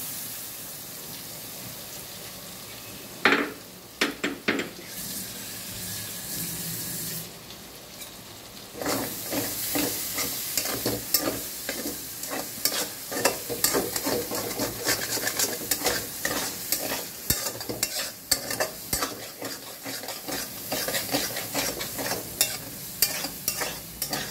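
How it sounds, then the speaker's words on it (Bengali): Spice paste for soya chaap frying in a pan, a sizzle that quietly hisses at first, then grows louder with rapid, repeated stirring and scraping over a long stretch, with no talk. "জোরে করে দিই, আস্তে করে দিয়েছিলাম, মশলাটা ভাজা ভাজা"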